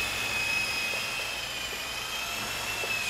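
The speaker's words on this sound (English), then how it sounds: "if you do trim this helicopter out perfect, you should be able to do hands off, like so." A New Art Tech 4-channel 400-class Agusta double-rotor RC helicopter flying, a steady high-pitched motor whine with constant rotor buzz, close and unbroken.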